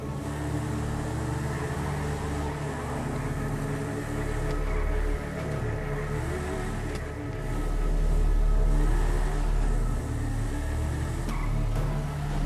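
A car in GTA V revving and accelerating, a continuous loud engine drone that swells toward the end, with no voices over it.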